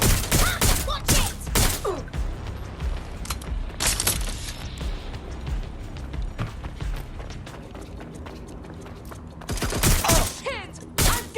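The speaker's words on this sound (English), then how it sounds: "I'm getting shot at!" Bursts of in-game gunfire crackle through a Watch Dogs Legion firefight, loud clustered volleys and scattered single shots erupting at the start and returning near the end, with mechanical clicks and rattles between them.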